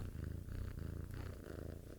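A big Maine Coon mix cat purrs close by, a soft steady rhythmic rumble of repeated breathing cycles, quiet and alone with no talk.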